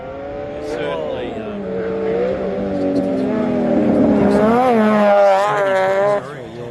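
An off-road race car with a tiny rotary engine at an Australian off-road racing championship passes close by, its high revving engine note climbing and shifting loudly while a commentator talks over it.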